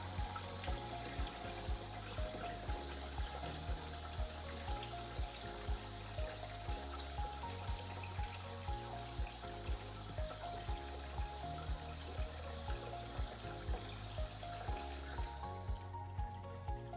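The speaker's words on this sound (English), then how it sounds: "Fill the water up to about the first tier." Tap water runs steadily into a bucket for cleaning mats, a continuous splashing fill with a low humming undertone, alone and without talk, cutting off near the end.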